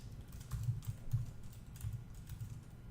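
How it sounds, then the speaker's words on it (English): Soft, quick keystrokes on a computer keyboard come in short irregular bursts, fairly faint and close, with no voices. "we type the word img"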